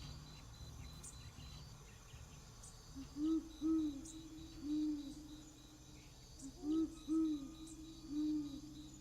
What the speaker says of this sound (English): the great horned owl